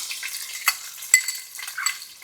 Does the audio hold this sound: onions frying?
yes